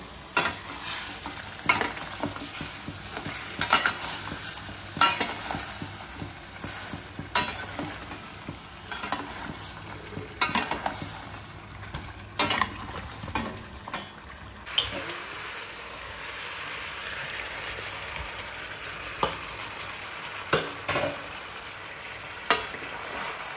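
A spatula works fried onions through chicken masala in a hot pan, steady sizzling with repeated scraping strokes and knocks against the metal, continuing throughout without any talk.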